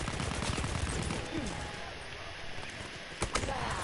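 Battlefield 1 video game gunfire: rapid cracks and bursts of shots mix with a dense battlefield din, with a couple of louder reports near the end and a voice talking over it.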